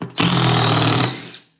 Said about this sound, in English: what you're hearing with that is that hammer action that I told you about